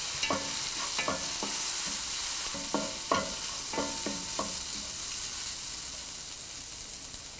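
Chopped onion, ginger and garlic sauté in a hot pan under a steady sizzle, with a series of sharp scraping stirs from a spoon against the metal in the first half, close and moderately loud, no talking.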